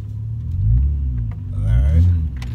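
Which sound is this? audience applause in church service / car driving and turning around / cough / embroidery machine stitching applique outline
car driving and turning around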